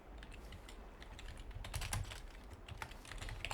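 Steady clatter of fingers typing on a computer keyboard, close and fairly quiet, keystrokes coming in quick irregular bursts with no talking.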